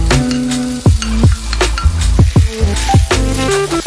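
Salted cod goes into a pan of translucent onions and fries with a steady, loud sizzle, while repeated sharp scraping knocks of a utensil against the pan come at irregular intervals.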